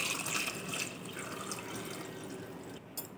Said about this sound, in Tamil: தண்ணி வேணால் இன்னும் கொஞ்சம் நம்ம ஊற்றிக்கலாம்.